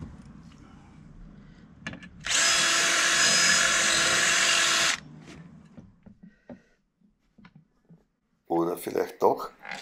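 A power drill bores screw holes for a boat trailer's plug in one loud, continuous whine lasting a couple of seconds, surrounded by quiet handling clicks, with someone speaking afterwards.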